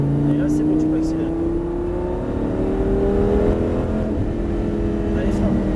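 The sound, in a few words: Lamborghini Gallardo accelerating on circuit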